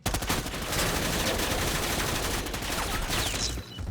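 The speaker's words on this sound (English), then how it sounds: "I'm going to jump down and let the fire team shoot me a little bit" Rapid gunfire from an AI fire team in the video game Predator: Hunting Grounds, a dense, sustained burst of shots that runs loud and continuous for several seconds before cutting off near the end.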